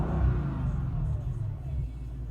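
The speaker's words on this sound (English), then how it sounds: "here we are in the driving portion of the E55 AMG" A supercharged Mercedes E55 AMG driving, its engine rumbling low and steady from inside the cabin as it pulls along, with no talk over it.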